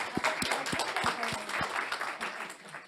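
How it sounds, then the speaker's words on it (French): Applause from the audience at a panel discussion on nuclear power, moderate clapping from the room, with voices talking briefly over it. "On applaudit."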